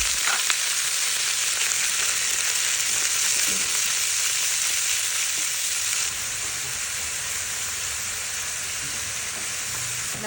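Ground pork sizzles loudly in a hot pan while pad krapao is cooked in Bangkok, a steady bright hiss with occasional stirring scrapes, dropping slightly in intensity partway through and with no talking.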